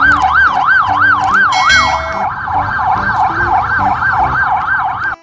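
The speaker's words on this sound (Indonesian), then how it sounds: "Wih, mobil polisi." A toy police car plays a loud electronic wailing siren, looping steadily for about five seconds, then cutting off abruptly.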